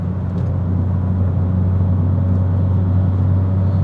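Turbocharged Abarth 500 with a big turbo kit making about 300 bhp, driven in sport mode, giving a loud steady engine drone and deep rumble heard from inside the car, continuous with no pauses.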